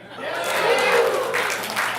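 A theater crowd at the Joy Cinema claps and cheers, swelling after a quiet start into dense applause with a chuckle or shout mixed in, lasting two seconds.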